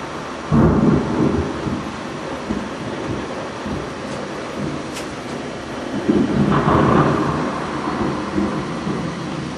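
Thunder rolls through a storm over Łowicz, two heavy rumbling peaks swelling and fading over a steady low roar that may include rain, loud and fairly near with no voices.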